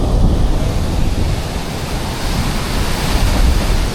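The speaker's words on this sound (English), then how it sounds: "These waves have been incredible." Ocean surf breaks continuously on an Australian shore at sunset, a loud, close, broad wash of crashing water mixed with wind rumble and no voices.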